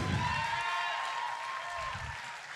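Clapping from a church audience at the end of a sermon, a broad continuous patter of many hands mixed with sustained musical tones and a low rumble, moderately loud throughout.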